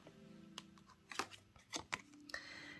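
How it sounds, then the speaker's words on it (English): Tarot cards are shuffled by hand in a quick run of soft riffling and slapping card sounds. They are close but faint, in a quiet room. "let's get one more shuffle"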